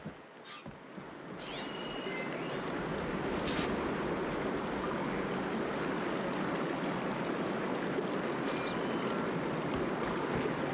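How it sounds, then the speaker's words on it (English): Running water in a room in the Horizon video game, a steady rushing wash that swells in after a few quiet clicks and metallic clinks, continuing evenly and fairly loud with no voices. "I can hear water in the room again"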